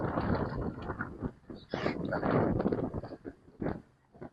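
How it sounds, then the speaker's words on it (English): Gusty wind buffets the microphone in uneven bursts, with rumbling swells rising and falling over a few seconds, outdoors at Steppingstone Park in Kings Point, Great Neck, New York. "A little windy today."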